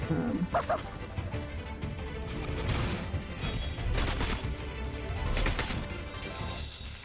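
A game puppy in Reverse: 1999 barks and yips in a few quick, fairly loud bursts over a busy background of in-game sound.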